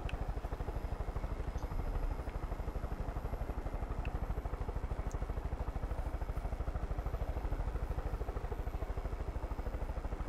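Helicopter in the video game Far Cry 5, a steady rapid rotor chop with engine drone, continuous and close, loud throughout with no talk over it.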